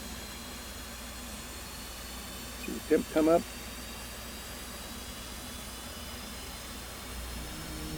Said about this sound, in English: And now the engine will start.